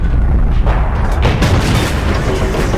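A tank gun fires in World of Tanks, with an AMX 30 shooting at an IS-3: a loud, dense boom followed by rumbling reverberation and battle noise, with no talking.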